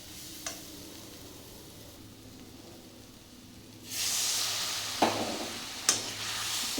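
Water poured into a sizzling spiced masala for an egg curry with shapla (water lily stems), then stirred: quiet stirring scrapes at first, then a sudden broad hiss of steam and sizzle with sharp utensil scrapes, no voices.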